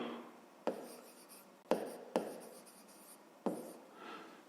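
Pen writing a math solution on a surface, with a few quick scratchy strokes separated by short pauses, close and fairly faint, with no talk.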